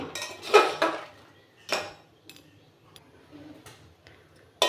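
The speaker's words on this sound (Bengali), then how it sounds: "এবারে চালটা ধুয়ে দিয়ে দিচ্ছি" Rinsed rice being tipped into a pot of lentils for khichuri, a few loud metallic clanks and clinks of a bowl against the pot, then quieter scattered taps.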